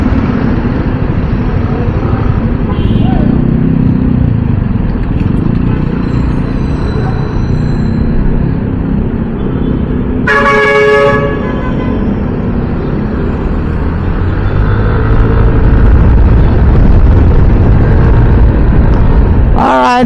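Heavy road traffic near Pasay, heard from inside a bus: a constant loud rumble of idling and creeping engines, a brief horn-like tonal burst midway and another near the end, steady and close throughout.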